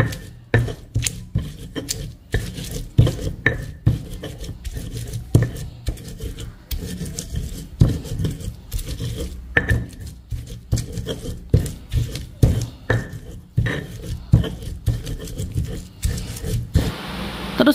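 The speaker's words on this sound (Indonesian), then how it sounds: "sekarang mau tak ulek-ulek" Boiled chilies for sambal are ground in a stone mortar, giving a steady rhythm of rough scraping and grinding strokes with dull knocks, close and moderately loud for the whole stretch.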